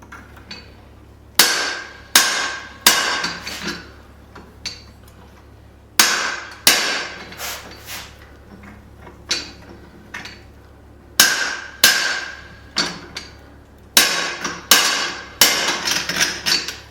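A blacksmith hammers hot iron while forging the neck of a candle holder socket, sharp ringing blows struck in quick bursts with short pauses between, loud and close.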